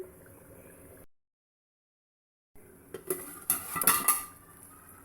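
A metal lid settles onto a cooking pot of beef and chana dal curry with a cluster of sharp clanks and rattles near the end, following a quiet stretch and a brief silence.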